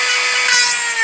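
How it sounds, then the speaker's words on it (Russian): A power drill bores a hole in a part of a Renault Scenic 3 windshield wiper assembly opposite the shaft, a loud, steady high-pitched whine close by with no talking. "Сверлим дырку напротив штока."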